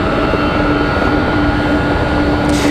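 A departing airplane at Raleigh-Durham International Airport, heard from a terminal parking garage at night, gives a steady, loud, broadband roar with a sustained tone, unbroken throughout.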